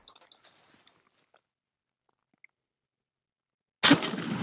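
A single loud gunshot from a Mauser Model 1871 rifle cracks out after several seconds of near silence, its sharp blast trailing into a brief rumbling echo.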